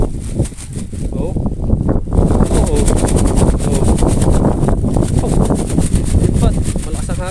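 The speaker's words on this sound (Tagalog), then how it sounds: "Malakas ang hangin." Strong wind buffets the microphone outdoors near beach cottages, a loud continuous roaring rumble with gusts, while people talk over it.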